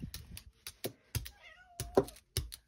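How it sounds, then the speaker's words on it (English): A pet cat meows several times in a room during a Gelli plate painting session, short wavering calls mixed with brush and brayer tapping and scraping sounds, fairly close and moderately loud. "y'all hear my cat"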